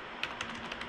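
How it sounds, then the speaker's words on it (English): Keystrokes on an RGB computer keyboard at a desk setup, a few light, quiet clicks tapped at an uneven pace over a faint background hum. "I have the RGB keyboard"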